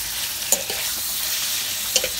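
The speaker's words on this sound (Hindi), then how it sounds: "और इसको भून लेना है।" Two kilos of minced meat frying with onions, tomatoes, salt and chilli in a large pot, a dense loud sizzle broken by two sharp spoon knocks against the metal, nearby and without talk.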